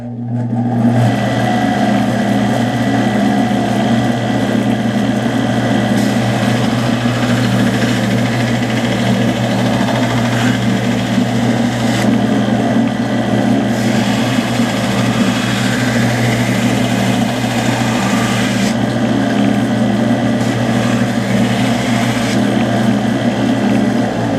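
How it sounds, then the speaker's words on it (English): A belt sander fitted with a rough belt scuffs a surface to prepare it for epoxy. It gives a loud, continuous motor drone with a gritty buzz that holds steady the whole time, with no talking. "put with a rough belt, put a rough little finish on here so the epoxy will dry real good"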